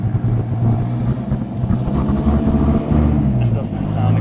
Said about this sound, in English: in case you can't already hear it, the Viper is making its way into the workshops now